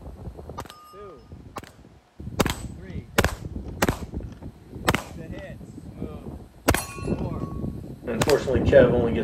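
Sharp gunshots ring out across a practical shooting competition stage as a shooter reloads, takes a high-value target and moves to a pistol array; about seven distinct reports come at irregular intervals over commentary and background talk.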